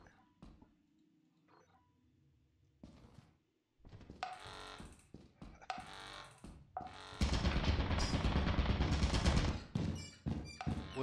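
Clicks and thuds, then intermittent bursts of rapid automatic turret fire in a video game, growing into a loud, sustained rattle before breaking into shorter bursts near the end.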